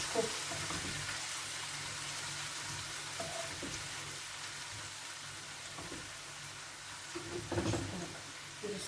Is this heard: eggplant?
yes